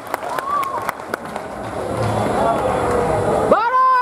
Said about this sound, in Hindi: इन कलाकारों के एक बार जोरदार तालियां जरूर बजाइए